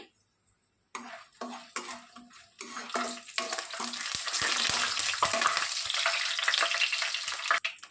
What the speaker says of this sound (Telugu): కొన్ని మిరియాలను వేసి ఈ స్పైసెస్ అన్నిటినీ బాగా ఫ్రై చేసుకోవాలి